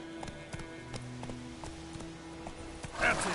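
Hooves of the horse Roach clip-clopping at a steady gait in The Witcher 3, a regular rhythm of soft thuds under a low game music drone, with a brighter burst of noise near the end.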